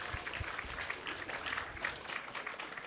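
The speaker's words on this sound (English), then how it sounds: "So let's give him a big round of applause." Brief, steady round of applause from a temple gathering after an arti, dense clapping that fills the whole three seconds at moderate volume.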